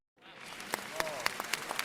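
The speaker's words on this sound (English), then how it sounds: "please join me in applauding our team" Faint applause from the audience at a design challenge grand final on stage, starting after a brief silence and building into steady clapping with a few sharper individual claps standing out.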